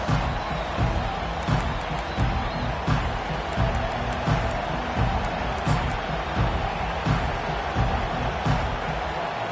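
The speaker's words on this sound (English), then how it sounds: "This crowd trying to make life miserable for this offense." Stadium crowd noise from a Madden football video game rumbles continuously at a moderate level, a broad roar with occasional thumps and swells, under a commentator's voice.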